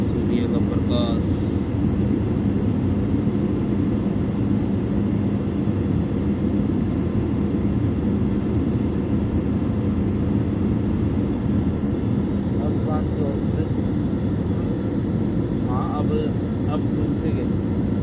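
Airplane cabin noise fills an airliner in flight, a loud, steady broadband roar of engines and air that continues without a break, with faint clinks and rustles now and then.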